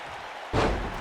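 A single heavy thud rings out in a WWE 2K19 wrestling match as a suplex slams a body onto the mat, with crowd noise underneath.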